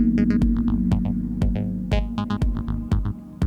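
A pulsing, wobbling acid house synthesizer bassline tone with a steady low drone and repeated plucked hits layered on top, loud and close.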